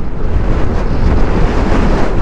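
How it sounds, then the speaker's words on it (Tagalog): Strong wind roars straight into the microphone at the Patapat Viaduct in Ilocos Norte, a loud, dense rumble with no break. "Grabe yung hangin."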